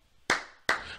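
Two sharp hand claps sound close up, spaced a little under half a second apart, and each one rings briefly into a quiet room.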